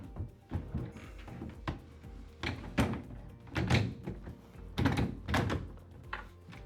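A Blum REVEGO Uno pocket door panel is lifted and set into place, giving several heavy wooden thunks and clunks with scraping and rattling between them, close by and irregular, with no speech.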